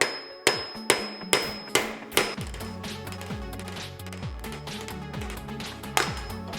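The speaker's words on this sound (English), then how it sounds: "place your screwdriver in the spot where the actual bolt would go in for the star nut, and then just tap away" A hammer strikes a Phillips screwdriver that is driving a star nut out of a bike's steerer tube. Six or seven sharp metallic taps ring out at a steady rhythm, then a ringing, clanking pattern follows, and one last tap lands near the end.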